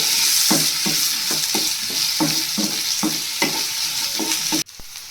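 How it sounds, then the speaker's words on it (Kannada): Chopped capsicum is stir-fried in a hot pan for chow mein. A loud, continuous sizzle runs under regular, rhythmic stirring strokes, about nine in a row, and stops abruptly near the end. "ನಂತರ ಕ್ಯಾಪ್ಸಿಕಮ್ ಕೂಡ ಹಾಕ್ಕೊತಾ ಇದ್ದೀನಿ ಅದು ಕೂಡ ಒಂದು ಮೂರು ತಗೊಂಡು ಫ್ರೈ ಮಾಡ್ಕೊತಾ ಇದ್ದೀನಿ"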